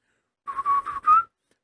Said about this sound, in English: And then a whistle.